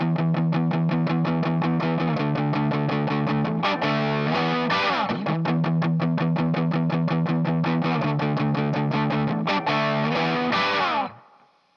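A heavily distorted electric guitar chugs a tight, palm-muted riff in steady rhythm, with brief open accents, played loud and alone before ringing out at the end.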